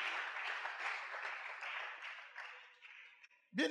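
A church congregation at a Sunday celebration service applauds in a steady wash of clapping that gradually thins out, ending in a brief voice.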